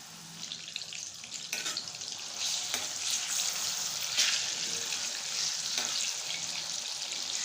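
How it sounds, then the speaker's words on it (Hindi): Banana pieces fry in a pan with a steady, soft, even sizzle that carries on without a break, with a few faint clicks scattered through it. "तो हम डाल देते हैं इसमें केला और इसको फ्राई कर लेते हैं।"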